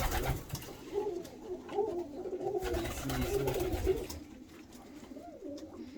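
Pigeons, kept birds of fancy breeds, coo in a low rolling murmur, several overlapping calls continuing steadily close by with rustling and handling noise in the background.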